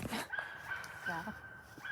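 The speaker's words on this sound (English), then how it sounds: "My neighbor's dogs." Neighbouring dogs yip and bark in a few quick, fairly distant bursts, brief whimpering calls heard outdoors over low background noise.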